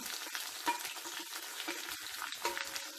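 Garlic and green chili hitting hot oil with already-popped mustard seeds, ginger going in too: a steady, close, crackling sizzle with scattered sharp pops, and no voices.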